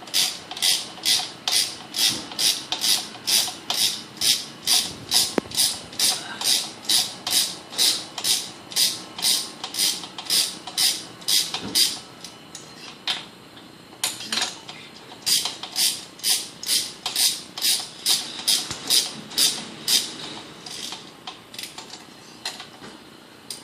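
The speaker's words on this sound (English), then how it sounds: "take your spark plug puller and your extension and pull out your spark plugs" A ratchet clicks in fast rhythmic bursts as a spark plug puller with an extension turns spark plugs out of an engine, close and crisp, pausing briefly midway before resuming.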